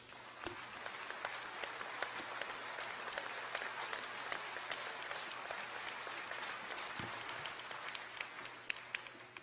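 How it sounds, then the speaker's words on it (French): A church congregation applauds during an Easter service, a dense, sustained wash of clapping from many hands that runs unbroken for several seconds at moderate loudness. "Applaudissons le Seigneur Jésus-Christ."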